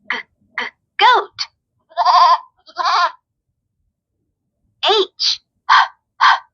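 Goat bleats from a Leap Frog Nature ABC Board toy: a run of short, loud, close electronic bleats in two bursts separated by a brief silence.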